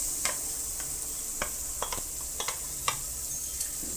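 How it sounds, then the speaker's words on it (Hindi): Yogurt being stirred into fried masala for mutton paya in a pot, with a steady sizzle throughout and a series of sharp spoon scrapes and taps at irregular intervals, no voices. "दही को चलाते ही रहना है ताकि गुठलियाँ ना बने"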